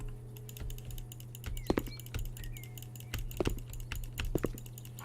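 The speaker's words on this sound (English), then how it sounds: "I'm clicking like mad because they could be anywhere." A computer mouse is clicked rapidly and repeatedly while playing House Flipper. The clicks come as a dense, close patter over a low steady hum, with no voices.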